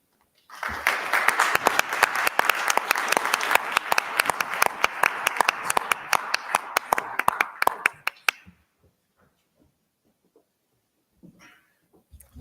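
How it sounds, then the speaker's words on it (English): An audience at a school board meeting applauds middle school students, a full burst of many hands clapping for about eight seconds that thins to a few scattered claps and near silence. "Give them all another round of applause."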